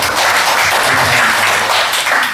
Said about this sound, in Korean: 수고하시는 우리 찬양대원들을 위해서 박수 한번 쳐드리겠습니다